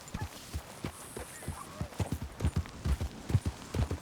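Horse hooves clip-clopping on the ground in the video game Red Dead Redemption 2, a close, steady run of rhythmic thuds for several seconds.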